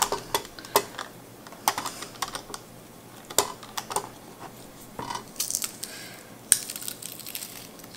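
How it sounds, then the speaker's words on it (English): Peeled garlic cloves get crushed in a garlic press, giving irregular close crunches and sharp metallic clicks in short bursts, with no voices. "a garlic press because I don't really care how it looks"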